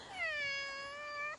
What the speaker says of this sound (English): he'll just start meowing and I call for him